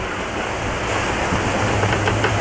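Ocean waves wash around a sailing boat running on a broad reach off Eleuthera in the Caribbean, a steady broad rushing hiss with wind noise buffeting the microphone throughout.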